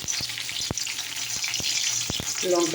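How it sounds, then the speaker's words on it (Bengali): Dried red chillies frying in hot oil in a wok give a continuous close crackling sizzle, punctuated by several sharp knocks and clatters of a utensil against the pan. "শুকনো লঙ্কা দিয়ে দিলাম"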